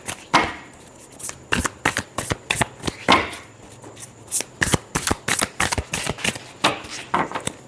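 Tarot cards being shuffled by hand, a close, brisk series of riffling and slapping bursts in an uneven rhythm, with no talking.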